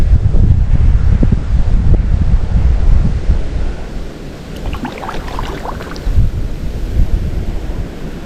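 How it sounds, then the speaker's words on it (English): Strong wind gusting across Willow Lake in Johnstown, Nebraska, roaring and buffeting loudly right at the microphone, with a brief lull midway before it surges again. "Wow, it is really windy out here."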